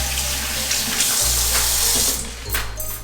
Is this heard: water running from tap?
yes